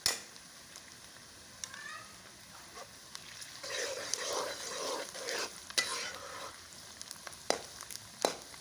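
Half-browned onion sizzling in a pan as ginger-garlic paste is stirred in, with a steady frying hiss and scraping spoon strokes and a few sharp clinks, close and fairly quiet.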